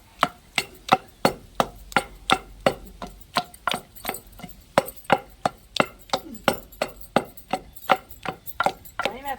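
Bottle gourd chutney with green chillies being pounded in a stone mortar, a steady run of sharp, evenly spaced thuds about two or three per second, close and loud, with no talk.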